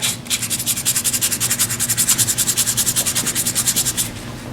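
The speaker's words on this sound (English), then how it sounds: "is literally to come in here with my 180 sandpaper" Small soft-wood Christmas ornament being hand-sanded with 180-grit sandpaper: fast, even back-and-forth scratchy strokes, close and loud, with no talking.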